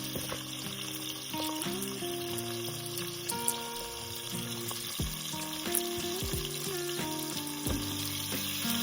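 Carrots being sautéed in a pan for a vegetable dal khichdi, giving a steady low sizzle with occasional clinks and scraping of utensils, no talking.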